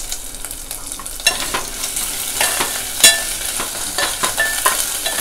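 Curry leaves dropped into hot oil crackle and sizzle loudly, a steady frying hiss broken by sharp spattering pops and a few stirring scrapes.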